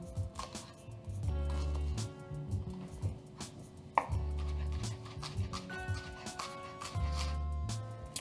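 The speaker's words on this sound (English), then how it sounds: "we're gonna brunoise our shallot and we're gonna add it into our vinaigrette" A knife finely dices a shallot on a cutting board for a vinaigrette, fast rhythmic close chopping in several bursts with short pauses between them, under background music.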